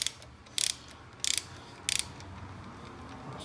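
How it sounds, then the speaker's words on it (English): A ratchet tightens a thermostat housing bolt on a Dodge Charger Scat Pack SRT 392, giving three quick bursts of rapid clicking spaced evenly apart, close and crisp over quiet garage background. "A ratchet here. I like to start with the bottom one."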